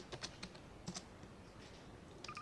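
Quiet keystrokes on a computer keyboard as a command is typed into a game console, a few taps in short irregular bursts with faint background hiss.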